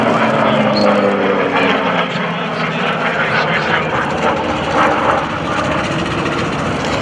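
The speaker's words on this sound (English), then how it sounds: "The big tail beast is what they called the Curtiss Helldiver." A Curtiss Helldiver warbird in US Navy markings flies past at an airshow, its piston engine and propeller giving a steady, loud droning roar that holds through the whole stretch.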